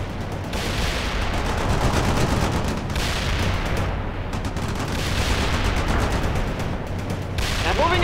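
Dense rifle and rocket fire in the World in Conflict strategy game, with rapid bursts of gunshots and booming launches layered into a continuous, loud battle din.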